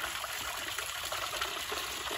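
A small water cascade in an outdoor holiday decoration display, with a steady, even splash and gush of falling water running close by without pause.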